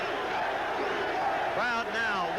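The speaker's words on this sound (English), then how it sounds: "Crowd now won't stay down. One by one, row by row, they stand and start that chant." A boxing arena crowd at the 1979 Benitez vs Palomino fight rises and chants, a dense roar of many voices with a rhythmic chant swelling near the end, mixed with commentary.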